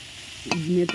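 Brinjal sizzles quietly in a hot pan over a straw fire, with a couple of sharp scraping stirs of a spatula.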